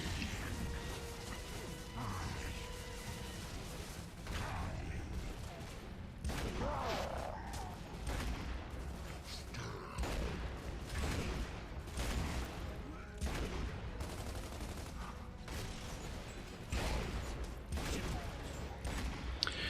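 Revolver shots in the video game Gears of War 2, repeated bangs and crashes over a dense, loud battle soundscape of explosions and debris with game audio filling the whole stretch.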